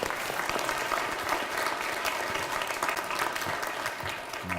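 A church audience claps steadily to welcome a pastor, dense applause filling the room at an even level from start to finish.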